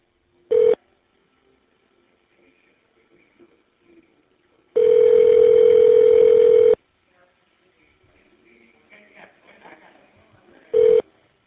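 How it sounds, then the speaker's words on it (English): Touch-tone beeps on a prison phone line as a number is dialed: a short tone, a long steady tone of about two seconds, then another short tone, loud and clean over near silence with faint line noise. "The number is now being dialed."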